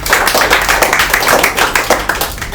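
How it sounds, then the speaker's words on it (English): Audience clapping at a student farewell function at an academy, a loud, dense spell of many people clapping quickly and unevenly for a few seconds. "So let us clap for all those people."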